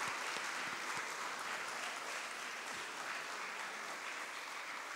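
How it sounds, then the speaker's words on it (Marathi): Audience applause at a Sanskrit group-singing school competition, a dense, steady crowd clapping that fills the hall without pause from start to finish. "तुम्हीच सगळ्यांच्यासाठी आम्ही टाळ्या वाजवतो एकदा"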